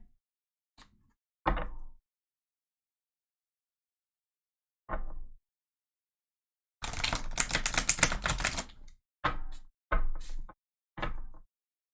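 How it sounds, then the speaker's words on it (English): Tarot cards are handled in short bursts of flicking and tapping, with one longer riffling shuffle in the middle, separated by silent pauses. "So let's go ahead and shuffle here."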